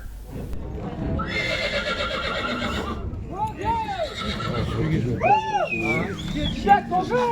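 Several horses neigh and whinny in loud, repeated calls at a Shymkent horse market, with hooves clip-clopping and a crowd talking underneath throughout.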